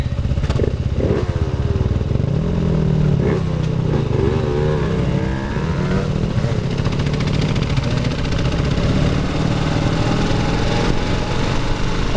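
Off-road motorcycle riding on a dirt trail, the engine droning steadily and loudly throughout with shifting pitch as it revs, plus wind and rumble, with no talking.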